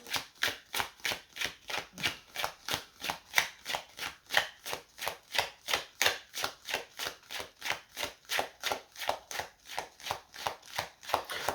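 Divination cards being shuffled by hand before one is drawn: a steady, rhythmic run of soft papery slaps, about three per second, close by and without talk.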